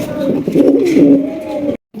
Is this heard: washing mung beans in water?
no